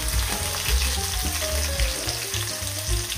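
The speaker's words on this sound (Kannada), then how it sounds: "ಸ್ವಲ್ಪ ಎಣ್ಣೆಯಲ್ಲಿ ಫ್ರೈ ಆಗಲಿ ಈರುಳ್ಳಿ." Onion fries in oil for tomato chutney, a dense, even sizzle close up, joined by a low rumbling hum and faint clinks, unbroken for a few seconds with no talking.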